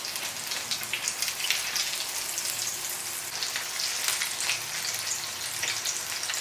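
Bread rolls frying in a pan over a low flame, a steady soft sizzle and crackle of oil that holds even and moderately close, with no voices.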